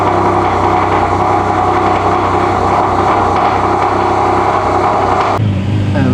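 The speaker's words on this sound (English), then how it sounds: "ahead and start this car" A supercar engine idles loudly with a steady rumbling hum and a rising rev, then cuts abruptly to a lower, quieter idle near the end.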